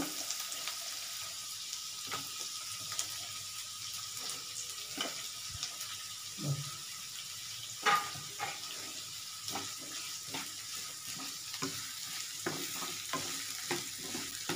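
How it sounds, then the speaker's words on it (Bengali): Chopped onion fries in hot oil in a preheated kadai, a steady nearby sizzle broken by repeated scraping stirs and occasional louder clatters, with no talking. "একটু পেঁয়াজ কুচি দিচ্ছি"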